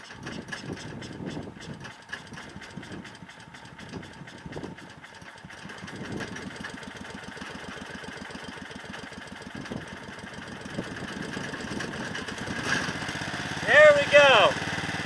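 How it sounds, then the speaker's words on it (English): A small generator engine runs on wood gas, sputtering at first and then settling into a steady rapid mechanical chug, with a voice talking over it and a brief squeal near the end. "There's our generator. Now running on synthetic gas."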